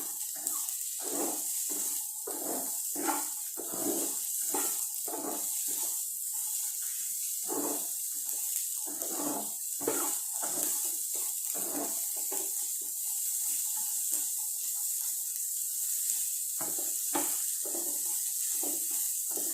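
Beans poriyal being sautéed in oil in an Indian kitchen, a steady soft sizzle with repeated scraping and stirring strokes at an uneven rhythm, close and moderately quiet, with no talking.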